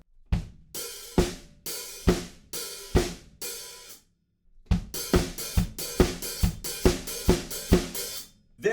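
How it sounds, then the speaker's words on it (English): A drum kit plays a steady groove with kick, snare and hi-hat, and an extra snare hit lands on beat 3. There is a short gap, then the beat returns in a denser pattern. "The only fill that really happens in that section is we get 1 extra snare drum on beat 3."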